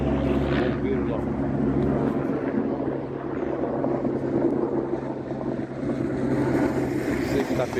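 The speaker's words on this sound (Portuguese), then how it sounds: "Aqui tá barulho de helicóptero" Helicopter passing overhead outdoors, a steady low rotor drone mixed with gusty wind buffeting the microphone, continuous and fairly loud throughout, with someone talking over it.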